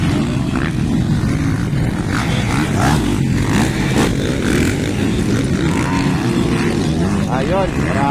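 Motorcycle engines drone steadily and loudly at a novice motorcycle race in Pantukan, Davao de Oro, under continuous talk and crowd noise.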